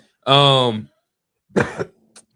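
A man coughs close to a podcast microphone, one strong harsh cough followed after a pause by a shorter cough and a brief throat sound.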